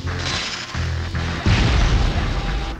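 Turrets in the PS1 Spider-Man game fire deadly blasts, a run of heavy, booming impacts that pound on continuously at close range, loud and dense with no talking over them.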